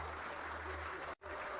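Crowd applause in a tabletop roleplaying game, an even wash of clapping that briefly cuts out near the end before resuming.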